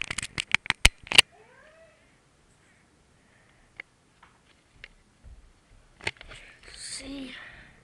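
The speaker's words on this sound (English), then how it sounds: "there were babies, baby kittens" Baby kittens meow in soft, thin cries, a few faint high mews scattered between sharp clicking taps near the start and quiet whispering later.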